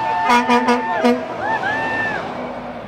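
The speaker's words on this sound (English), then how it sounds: "We're getting a lot of honks here." Passing cars toot their horns several times in quick succession, followed by a longer honk, with traffic noise in the background, in Wolfeboro, New Hampshire.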